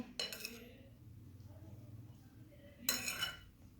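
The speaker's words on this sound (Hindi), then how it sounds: "वो अच्छे से मिक्स कर लेंगे पहले सारी वेजिटेबल्स और एग्स को" Chopped vegetables, carrots and eggs are mixed in a bowl for an egg mayo sandwich, heard as two bright bursts of utensil clinks and scrapes against the bowl with quiet, muffled handling between them.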